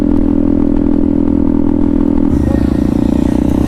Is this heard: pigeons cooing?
no